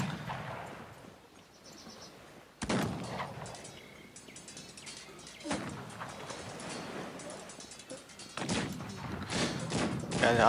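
Heavy cannon fire from a Cossacks 3 strategy battle: a series of sudden loud booming blasts with crackling battle noise between them, growing denser toward the end, with a voice talking now and then.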